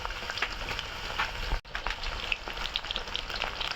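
Chopped onion hits the hot oil left from frying potatoes for biryani, setting off a dense, crackling sizzle that briefly cuts out, then resumes with sputtering pops close by and no talking.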